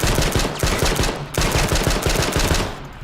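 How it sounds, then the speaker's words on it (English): Rapid gunfire from a Magnum pistol in the video game H1Z1, loud close repeated sharp shots in a dense rhythmic burst with a brief gap midway, no voices. "the Magnum shoots way too slow"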